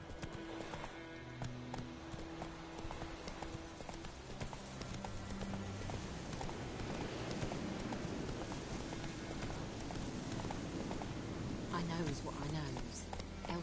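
The horse Roach gallops in The Witcher 3 game, with steady rhythmic clip-clop hoofbeats running throughout and voices speaking over the hooves.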